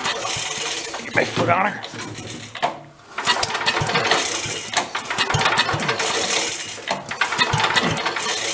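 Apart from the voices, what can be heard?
pull-starting engine of vintage Mite-e-Lite generator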